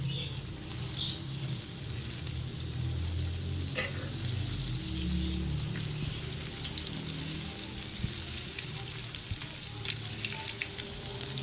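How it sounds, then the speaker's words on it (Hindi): Chicken pakora pieces deep frying in hot oil, restaurant style, give a steady, dense sizzle and bubbling that runs unbroken from start to finish, close and even, with no voices. "1 मिनट के लिए इसे मैंने फ्राई होने दिया।"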